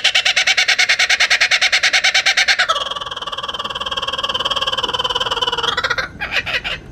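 An Australian bird calling at Gatorland, loud and close: a fast run of repeated harmonic hoots, then a drawn-out tonal cackle, ending in a few more choppy bursts.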